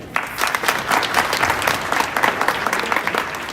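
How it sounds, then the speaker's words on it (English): Loud, lively audience applause at a Ram Bhajan group's anniversary event, many hands clapping densely and continuously with slight swells. "Please do we have a round of applause for you."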